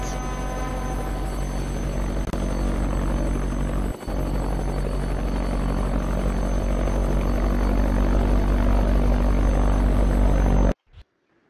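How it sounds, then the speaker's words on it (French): Airplane in the video game Mad City flying fast, a loud, steady engine roar that drones on continuously with one brief dip, then cuts off abruptly near the end. "L'avion, il va super vite."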